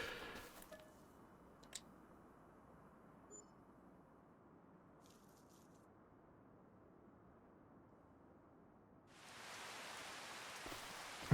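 Steady soft rain from the Farming Simulator game hisses evenly throughout, growing brighter and louder near the end, with no talking.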